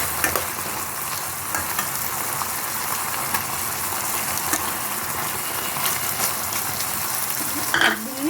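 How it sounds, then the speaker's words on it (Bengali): Tarui fish simmering in a boiling poppy seed gravy give off a steady, close, bubbling sizzle that holds on without pause, with a brief louder flare of sputtering near the end. "ঝোলটা ফুটে গেছে, এখন মাছগুলো আমি একটা একটা করে ছেড়ে দেবো এর মধ্যে"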